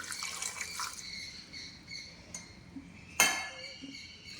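Water is poured into a pressure cooker holding salted tender jackfruit, giving a faint trickling splash with a small clink of the vessel partway through, fairly quiet and close.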